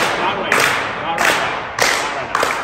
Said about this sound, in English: You are gonna clap your hands together.